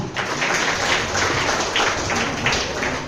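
A crowd at a Krishnagiri book-festival debate claps in a brief, continuous burst of dense, mid-level applause.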